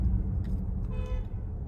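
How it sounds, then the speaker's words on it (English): Car horns honk a few times over steady traffic rumble, short toots rising above the low engine noise, moderately near. "Wow, everyone is honking today."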